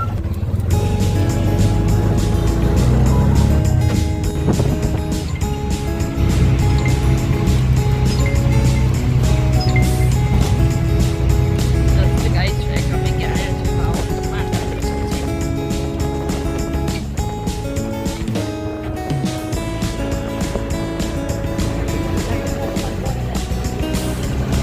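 Honda Activa scooter being ridden on city roads, its engine droning steadily throughout with wind and traffic noise, people talking over it.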